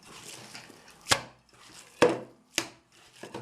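Minced meat for lula kebab being beaten and slapped by hand in a small pot, three or four sharp thuds spaced about a second apart, close and fairly quiet, with soft squelching between them and no talk.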